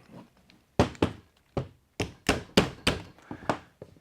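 An Umarex HK416D gas blowback airsoft rifle is closed up and locked tight, giving a series of sharp, close plastic-and-metal clacks and thunks spaced irregularly over a few seconds, with no talking.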